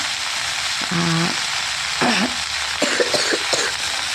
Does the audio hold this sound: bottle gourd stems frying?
yes